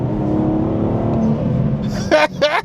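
A BMW 440i fitted with an MST intake holds a steady, rumbling rev, then gives two sharp whooshing blow-off valve bursts close together near the end.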